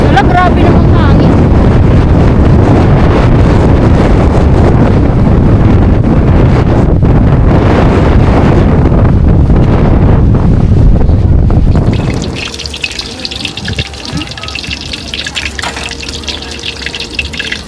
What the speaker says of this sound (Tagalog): grabe namang hangin